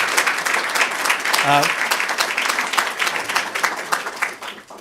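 Crowd applause at a swearing-in ceremony for a California Supreme Court justice, dense sustained clapping from many hands with a brief voice or cheer rising through it, fading toward the end.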